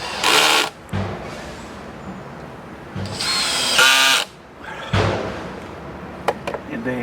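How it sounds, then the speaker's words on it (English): A power drill drives screws into soft pressure-treated lumber for a homemade bonsai bench, with several close bursts of whirring and the ratcheting skip of the clutch as each screw seats tight. "then I just drive the screws. You'll hear it skip after it gets as tight as I want it."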